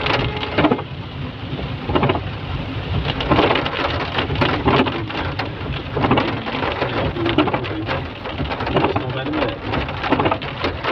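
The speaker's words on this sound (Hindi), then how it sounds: "चलिए बारिश और ज़्यादा तेज हो गई।" Heavy rain pours steadily at Dalhousie in Himachal Pradesh, a dense close hiss with scattered louder patters and drips across the whole stretch, and occasional faint rumbles beneath.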